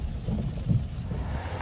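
Steady rain with low rumbling thunder at a state park, a constant wash of rainfall with deeper rolling rumbles underneath and no talk.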